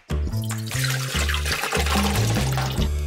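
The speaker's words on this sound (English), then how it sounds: "now I'm going to drain the brine from the tremoços" Brine draining from a jar of lupini beans (tremoços), a steady close pour of splashing liquid with gurgling pulses as it glugs out, no voices.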